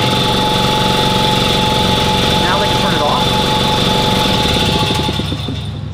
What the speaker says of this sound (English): whenever I turn on that switch, it'll turn on the air compressor